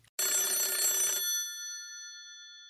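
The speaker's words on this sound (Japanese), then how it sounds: "留守番電話入ってますね" A telephone bell rings in one loud burst, then its tone rings on and fades slowly, with no voices, as an answering-machine message comes in.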